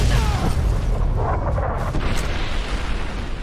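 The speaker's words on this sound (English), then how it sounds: "When attempting to reach the boomers, I find myself bombarded with heavy ordnance artillery." Heavy artillery ordnance pounding a path in Fallout New Vegas: a loud, continuous booming rumble of blasts that stays dense and low-heavy throughout.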